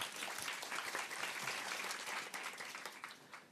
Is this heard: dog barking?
no